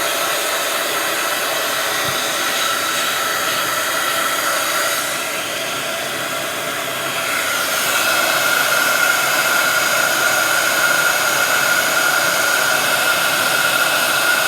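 Heat gun melting embossing powder for heat embossing, a loud constant blowing whoosh that dips slightly in the middle and then returns steady for the rest, with no voices.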